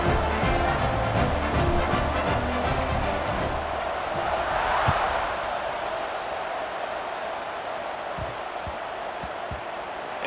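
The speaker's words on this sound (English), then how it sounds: "this crowd is buzzing after that last score." A large stadium crowd buzzes at a college football game in EA Sports College Football 26, a steady, dense roar of many voices heard throughout.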